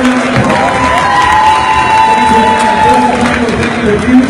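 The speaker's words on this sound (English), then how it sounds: "Everybody give him a round of applause" Crowd at an Atlanta Hawks business event cheers and applauds, a steady loud roar of clapping and shouts that runs throughout with no break.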